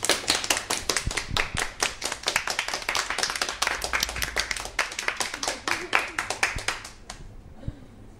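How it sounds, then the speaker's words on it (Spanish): Audience at a food-tasting quiz contest breaks into applause, a smaller group's claps heard as distinct sharp hits at a steady brisk pace, close and lively for several seconds before fading out near the end. "Esos aplausos."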